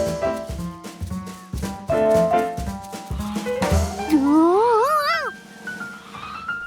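Cartoon cat meowing repeatedly in rising, wavering yowls over busy animated background music and sound effects, the cries growing louder toward the end.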